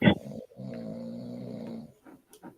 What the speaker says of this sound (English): already snoring